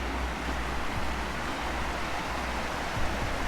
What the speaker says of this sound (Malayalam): ഇവിടെ നമ്മുടെ താഴത്തേക്ക് ഒരു വാട്ടർഫോളാണ്